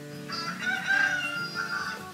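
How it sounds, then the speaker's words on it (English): A rooster crows once, loud and close, a drawn-out cock-a-doodle-doo with no other sounds around it. "see if we can catch them roosters you hear crowing right now"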